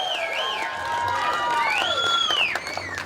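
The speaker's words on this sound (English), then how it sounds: "Let's give yourselves a round of applause for fighting for our freedom." A crowd at an outdoor freedom rally in Michigan claps, cheers and whistles, a loud continuous roar of applause with rising and falling whistles over the top.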